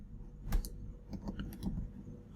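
Code is typed on a computer keyboard in quick, uneven bursts of soft clicking keystrokes, quiet and close, with no talking.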